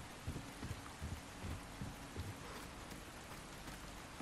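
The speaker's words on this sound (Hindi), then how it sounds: "एक तो बारिश भी बहुत तेज हो रही है." Heavy rain pours in the video game Resident Evil 4, a faint, steady hiss of downpour with soft low thuds scattered throughout.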